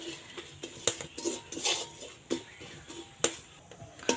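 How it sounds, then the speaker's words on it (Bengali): A spoon stirs sugar caramelizing in a pan for homemade mishti doi, giving scattered metallic clinks and scrapes against the pan, close and fairly soft, with no talking. "এই পরে কিন্তু সুন্দরভাবে এইভাবে একটু নাড়িয়ে দিতে হবে"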